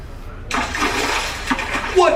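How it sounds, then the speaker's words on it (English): Water splashes as kangaroos plunge into a cool pool, a busy broadband wash of sloshing with a louder burst near the end, while a voice talks over it. "What terrible splashing!"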